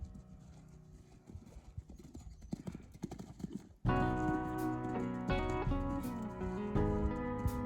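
A pony's hooves thud and clip-clop in a steady canter rhythm during jumping training over short distances, fairly faint at first and then louder and closer as background music begins.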